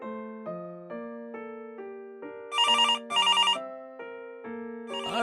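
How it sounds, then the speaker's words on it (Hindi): A landline telephone ringing with an electronic melodic tone, a repeating pattern of bright notes broken by two sharp trilling bursts, loud and close with no voices. "ये मोबाइल की जगह लैंडलाइन खनखना रहा है"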